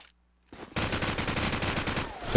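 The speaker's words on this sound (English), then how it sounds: "Hellfire's trying to pick him with the SMG." Submachine gun bursts from Call of Duty 4 online play, a sustained rapid rattle of loud shots after a brief silence and a few opening cracks, with game ambience underneath and no speech.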